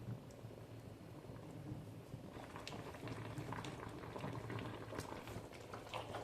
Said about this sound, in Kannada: ಇವಾಗ ಇದನ್ನು ಚೆನ್ನಾಗಿ ಕುದಿಸ್ಬೇಕು.